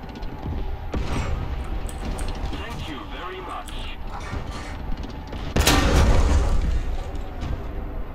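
Shells strike a Challenger 2 tank in the War Thunder video game, with heavy booming impacts around the first second and a louder, longer blast later, over a constant mechanical engine rumble.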